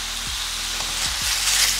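Frozen noodles cooking in a pan give off a steady, close sizzle of hot oil, with a few soft low thumps of stirring and no talking.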